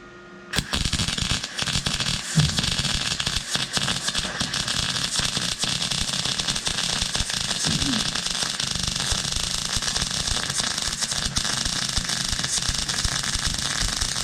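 A REBOOT RBM-1300 3-in-1 welder arcs continuously for about fourteen seconds, a loud, steady crackling sizzle with dense static texture and no talking.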